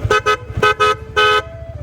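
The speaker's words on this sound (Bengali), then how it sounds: "আমার বাইকে আমি হর্নটা চেঞ্জ করছি তো দেখেন এই হর্নটা কেমন" A newly fitted horn on a motorcycle honks in four short loud bursts and one longer blast, close up, with a steady engine tone running underneath.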